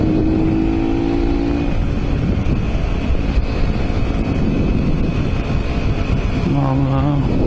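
A Mondial Rx3i Evo motorcycle engine running while riding, a steady loud drone buried in heavy wind rush, with a brief rising engine whine near the end.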